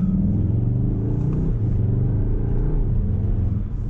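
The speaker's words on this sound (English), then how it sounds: "from a 4-pot to a rumbly V8 for some reason, and it now pops and bangs as well" A CUPRA Formentor 310HP in CUPRA mode sends out a deep, steady, rumbly V8-like exhaust drone while cruising under load, close and loud throughout.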